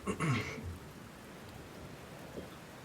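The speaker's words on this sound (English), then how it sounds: "Oh, how tiresome this rain is." Rain falls as a soft, steady hiss in the background. A brief, louder muffled sound comes at the very start, then the patter continues evenly and faintly.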